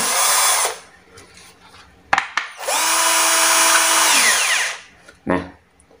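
A cordless drill whirs in two loud bursts, a short one and then a longer sustained run, with brief clicks and handling noises between.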